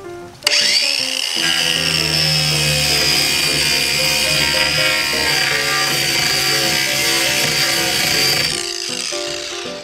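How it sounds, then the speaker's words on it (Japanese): An angle grinder sands down the white face of a kotatsu table board, a loud continuous whining, rasping grind that runs steadily for most of the stretch after a brief start, with no talking. "こちらの白い方、こちらをね、ゴリゴリに削っていきたいと思いますよ。"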